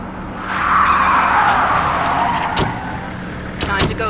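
In Splinter Cell: Conviction, a car skids up with a broad tire screech that swells and fades over a few seconds, followed by a few sharp mechanical clunks near the end.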